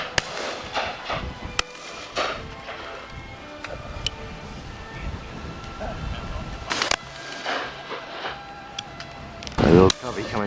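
Shotgun shots at a September partridge shoot in a valley, several sharp distant bangs spread over outdoor ambience, with someone talking and a brief bird call near the end.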